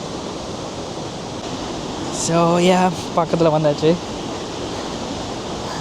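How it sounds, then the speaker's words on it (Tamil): Rushing water at High Force waterfall in the UK forms a steady, broadband roar that fills the whole scene, while a person speaks briefly over it near the middle. "சூப்பராக இருக்குது தண்ணி பாயிர சத்தமும்"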